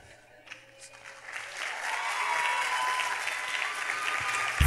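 Applause from a comedy show audience builds from quiet to a steady, dense ovation that lasts several seconds without talk.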